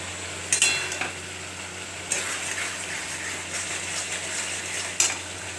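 Masala of ground paste, chilli, salt, turmeric and tomato puree fries in a pan with a continuous bubbling sizzle. A few sharp spatula scrapes and clinks stand out, one near the start and one near the end.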